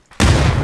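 Grenade explosion in the video game PUBG, a sudden loud close blast that cuts in after near silence and holds as a dense rumbling roar.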